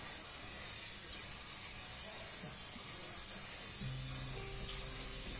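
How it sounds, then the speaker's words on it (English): A static grass applicator sprays grass with a steady, airy hiss that runs throughout, continuous and fairly close, with a faint low hum entering near the end. "Spray over the top."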